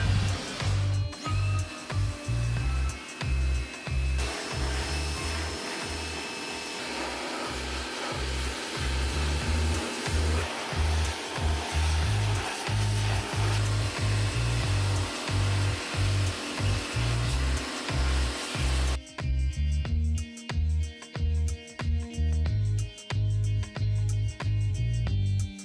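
Loud machine used for a motorcycle wash, running as a continuous harsh droning whine with a throbbing low pulse that shifts tone partway through, close and steady with no talking.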